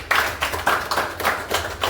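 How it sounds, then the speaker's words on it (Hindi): Audience claps in loose rhythmic bursts at a company weekly meeting, several distinct swells of hand claps spread across the moment, moderately loud with no voices on top. "ताली होनी चाहिए सोचकर।"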